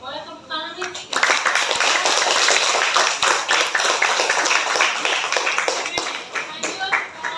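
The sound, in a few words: group clapping hands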